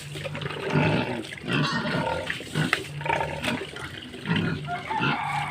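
A pig grunting close by, rough, throaty grunts repeated in uneven bursts over a low background, with no talking.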